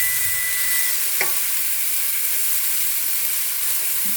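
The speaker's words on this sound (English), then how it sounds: "I just flip my peppers over" Bell peppers fry in a hot pan with a steady, close sizzle, broken once by a short scrape and clatter as they are flipped.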